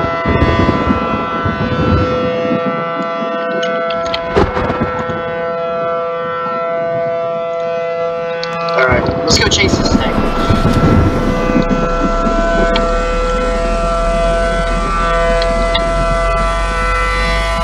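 A loud, sustained civil defense siren in the Roblox game Twisted wails steadily with a droning tone, accompanied by rumbling wind-like noise and engine hum underneath.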